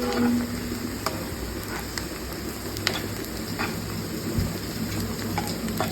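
Spices such as bay leaf, stone flower and star anise frying in oil in a pan while being stirred for a chicken dish. There is a steady sizzle with soft scraping of the spoon throughout.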